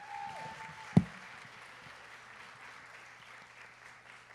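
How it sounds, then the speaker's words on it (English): Applause from a ceremony audience after a performance at a Kente stole donning ceremony, faint and steady throughout, with one sharp knock near the start. "Let us give them another round of applause."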